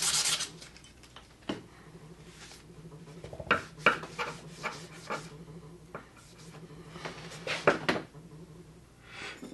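A woodworking plane blade is rubbed with fine 600 or 800 grit emery paper in short, uneven rasping strokes, close by and fairly quiet, with brief pauses between passes.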